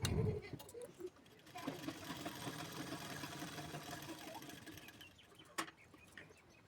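A sewing machine runs a steady, fairly faint whirring stitch while a belt strip is sewn on three sides of a lined blouse, continuing for several seconds after a short pause, with a brief tap near the end.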